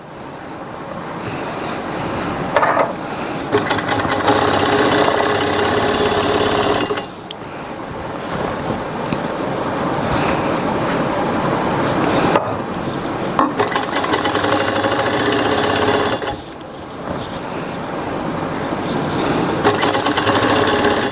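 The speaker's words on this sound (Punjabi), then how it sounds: "ਇਹ ਸਲਾਈ ਆਪਾਂ ਲਾ ਰਹੇ ਹਾਂ ਕੱਚਾ ਪਾਉਣ ਦੇ ਲਈ" An electric sewing machine stitches gum piping onto a Punjabi suit with a loose basting stitch. It whirs loudly and close in three long runs, each broken by brief pauses.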